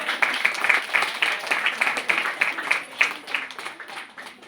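Children clap at a Sunday school Christmas celebration, a steady run of close, crisp claps with a loose rhythm lasting several seconds at moderate loudness.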